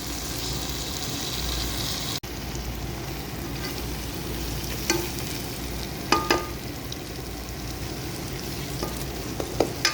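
Onions and tomatoes fry on a low flame in a pan for Pakistani bhindi pyaz, a constant soft sizzle with occasional spatula taps and scrapes near the end, close by and with no one talking.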